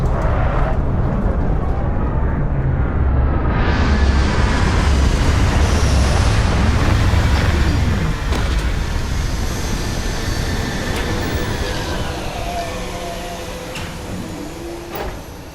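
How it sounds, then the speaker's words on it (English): Retro thrusters roar loudly as a spaceship lands in Starfield, a steady, broad rushing blast that swells and then slowly fades over about fifteen seconds, with no voices. "Landing struts primed, retros firing."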